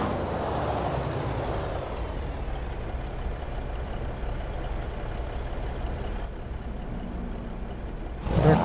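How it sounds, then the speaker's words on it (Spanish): Kenworth T880 truck with a 620 hp engine and 18-speed gearbox in American Truck Simulator, a steady loud engine drone and road rumble throughout with no talk, ending in a brief hiss burst. "Escuchen esta belleza de motor."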